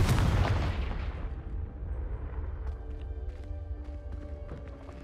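A Confringo blasting spell explodes in the video game Hogwarts Legacy: one loud, booming blast right up front that rumbles and decays over several seconds, with faint ringing debris tones trailing off.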